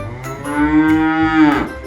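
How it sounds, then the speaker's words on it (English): A single long, low cow moo, loud and close, holding steady for over a second before trailing off. "Hello, cow. What sound do you make?"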